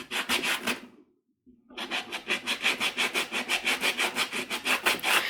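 Painted wood sanded by hand with a sanding block in steady back-and-forth strokes, loud and close, a brief pause after the first second, then a long regular rhythmic run.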